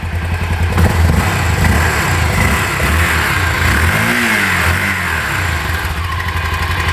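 A Honda FMX 650 supermoto's single-cylinder engine thumps loud and close, idling in a steady chug, then revs up and falls back with a rising and falling pitch.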